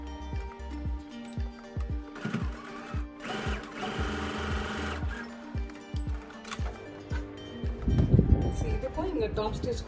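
Sewing machine running in short bursts while top-stitching a blouse, with rapid mechanical clatter broken by pauses and fabric handling, close by, with a voice talking in between.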